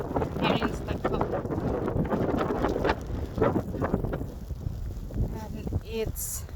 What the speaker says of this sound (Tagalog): We have a snowstorm here today.